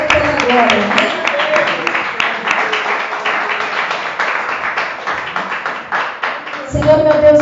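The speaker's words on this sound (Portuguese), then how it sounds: "Aplaudindo o Senhor Jesus" Church congregation applauding in praise, with quick rhythmic hand claps close by and voices mixed in, before the clapping pauses briefly and then swells again at the end.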